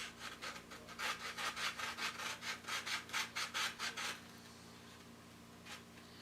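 Repeated rhythmic sanding strokes of a curved-edge sandpaper block on mahogany guitar wood, about a dozen close, steady rasping passes that then stop, leaving quiet room tone with one faint stroke near the end.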